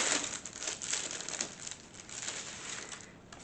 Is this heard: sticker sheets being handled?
yes